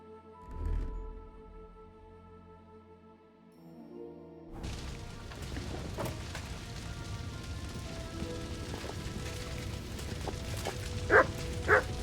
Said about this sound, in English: Why are you barking like crazy?